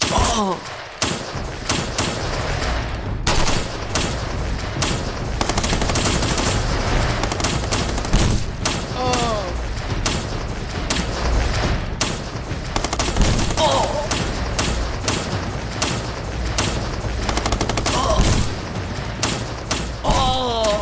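Loud, dense gunfire from multiple guns in a dramatized firefight, with rapid bursts and scattered single shots thudding continuously throughout, broken by brief shouted voices.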